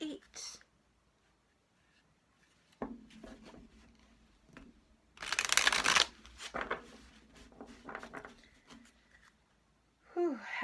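Tarot cards being shuffled live for a pick-a-card reading, with a loud burst of riffling in the middle and quieter card handling and taps before and after.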